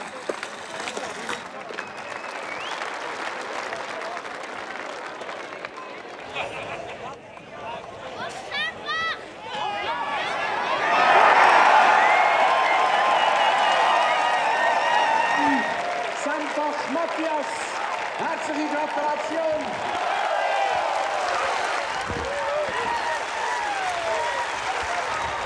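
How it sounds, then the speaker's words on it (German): A crowd at a Swiss wrestling festival claps, with applause swelling partway through and then continuing at a lower level, while an announcer speaks over the general arena noise. "mit einem grossen Applaus auf dem Platz 2"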